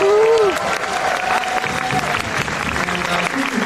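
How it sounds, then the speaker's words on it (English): A convention panel audience breaks into loud, sustained applause that fills the room, with a brief vocal sound at the very start. "Let's give a preliminary round of applause for our"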